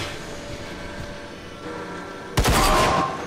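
A sniper rifle fires in a first-person shooter, a sudden loud broadband blast near the end that rings out briefly after a stretch of steady low background hum.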